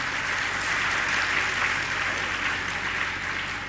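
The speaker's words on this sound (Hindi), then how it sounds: "अपने लिए ताली बजा लो" An audience at a Jain Shravak Sanskar Shivir gathering in Indore clapping together, a sustained, even wash of many hands at fairly close range that stays level throughout.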